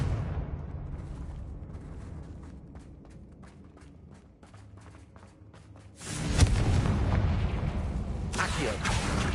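A Confringo fire spell in Hogwarts Legacy erupts into a loud, broad explosive blast that rumbles on for several seconds, preceded by quieter rhythmic clicking steps.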